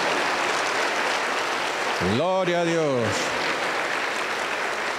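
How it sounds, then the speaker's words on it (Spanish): A church congregation claps loudly and continuously in praise, a broad wash of applause throughout while a voice briefly calls out over it midway. "Un fuerte aplauso para el Señor."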